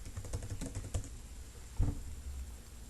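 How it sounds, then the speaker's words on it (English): Quick bursts of keystrokes on a computer keyboard, close and fairly quiet, with one sharper key press partway through and no voices. "just type in buffalo"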